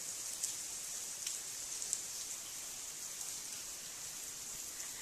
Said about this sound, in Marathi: आज पाऊस आहे